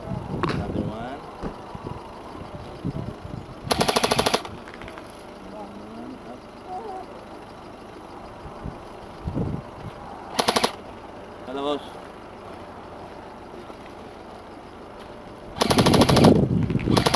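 A Both Elephant Type 89 airsoft rifle fires several short automatic bursts, each a sharp rapid rattle lasting about a second, with a longer burst at the end and quieter handling noises and voices between them.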